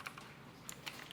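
Fingers tap a computer keyboard in a few quick, light keystrokes, soft and close, with short pauses between small bursts and no voice.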